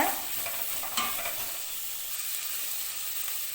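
Cashews sautéed in a pan for sweet corn gravy crackle and sizzle softly while a spoon stirs and scrapes through them, one sharper scrape near the start, no voices.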